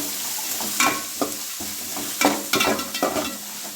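Sliced onion frying in oil for a homestyle chicken curry, stirred with a spoon scraping the pan every second or so over a loud, continuous sizzle close by.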